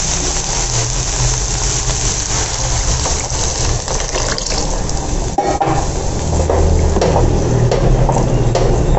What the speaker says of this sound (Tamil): நம்ம வந்து புளி தண்ணி ஊற்ற போகிறோம்